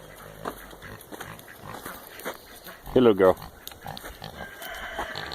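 A pig on a farm lets out a short burst of loud, close grunts in the middle, while a person talks nearby before and after.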